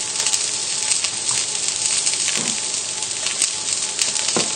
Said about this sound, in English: You just want to leave it in the pan, cooking away, and it'll be getting really nice and caramelised.